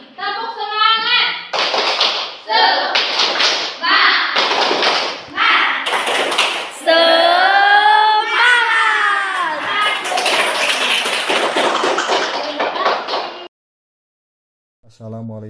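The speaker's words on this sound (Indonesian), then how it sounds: "Mari kita lakukan tepuk semangat untuk menyemangati kita di siang hari ini" Elementary school children at SD Negeri 2 Sadapaingan perform a rhythmic spirit clap, bursts of group clapping in a steady pattern mixed with chanted voices, ending in a brief pause and a final clap.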